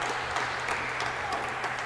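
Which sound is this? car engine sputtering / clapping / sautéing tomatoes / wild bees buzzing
clapping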